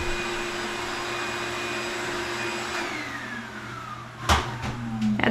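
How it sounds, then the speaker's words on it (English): A shop vac whines steadily during a bathroom remodel, then is switched off and its pitch slides down as the motor spins to a stop, followed by a couple of sharp knocks. "That's how pros turn off their shop vacs."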